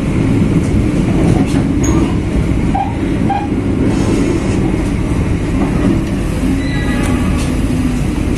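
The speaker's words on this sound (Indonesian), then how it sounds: "perjalanan saya bersama kereta api Cikuray persiapan masuk stasiun Purwakarta" Inside the Cikuray passenger train as it nears Purwakarta station, a loud, continuous rumble of wheels and carriage noise fills everything, with faint clicks of the rails and no talk.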